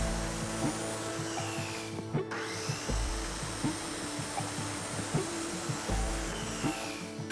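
A power tool cuts wallboard during a shower renovation, giving a steady close whine with a brief pause and light rhythmic knocks, with no voices.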